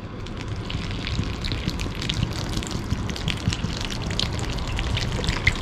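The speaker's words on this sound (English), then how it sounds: "Just gonna pour the entire bottle." Steady liquid pours and splashes continuously from a bottle onto a Honda S2000 fabric convertible roof, a close gushing trickle with no talking.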